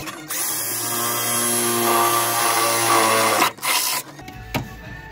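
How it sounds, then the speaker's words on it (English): A power drill bores a hole through the kick panel of a 1968 Ford Mustang, a steady high whine running about three and a half seconds before stopping, followed by brief handling clatter. "we find a good spot to drill a hole to run our wires through"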